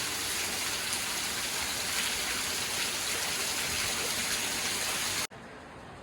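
Heavy rain pouring steadily, a loud dense unbroken wash of drops that cuts off abruptly near the end, with no talking.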